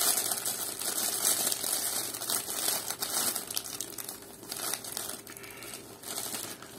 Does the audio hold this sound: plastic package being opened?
yes